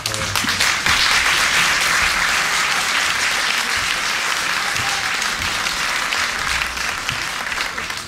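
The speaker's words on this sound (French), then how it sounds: "Attendez d'avoir vu le film pour applaudir." Dense, steady applause fills a room as an audience greets the director presenting a documentary film, continuous and loud for about eight seconds with little variation.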